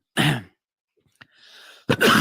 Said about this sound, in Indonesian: Mohon maaf ya, saya sedikit batuk.